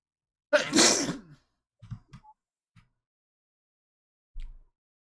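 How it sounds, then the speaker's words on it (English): One loud, close human sneeze bursts out, followed by a few faint clicks and small thumps in an otherwise quiet room. "I always end up sneezing a lot during winter."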